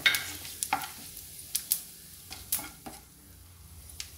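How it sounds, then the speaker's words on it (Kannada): A bay leaf and whole spices fry in oil in a pan for a cauliflower and pea curry, with a steady close sizzle and scattered light scraping and clinking from stirring. "ಫಸ್ಟು ನಾವೀಗ ಈ ಪಲಾವ್ ಎಲೆ ಹಾಕ್ಕೊಳ್ಳ, ಹಾಗೆ ಈ ಹೋಲ್ ಮಸಾಲ ಏನು ಇಟ್ಕೊಂಡಿದ್ದೀನಿ ಅದನ್ನು ಹಾಕ್ತಾ ಇದ್ದೀನಿ."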